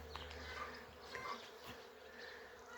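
Honeybees buzz close by, a continuous droning hum with individual bees passing near and away, no voices.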